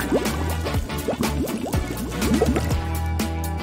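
Liquid pouring and gurgling into a small plastic bear-shaped mold filled with rainbow sand, a steady wet trickle with bubbling, dripping blips throughout.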